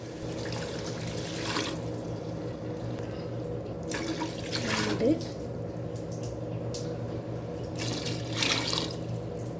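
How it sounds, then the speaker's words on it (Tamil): Four tumblers of water are poured into a pot for vegetable biryani, giving a steady splashing pour under a constant background hum, with a few brighter surges along the way. "நாலு டம்ளர் தண்ணி எடுத்துருக்கேன் நாலு டம்ளர் தண்ணி ஊற்றிருக்கேன்"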